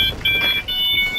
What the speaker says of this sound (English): And that's my phone ringing.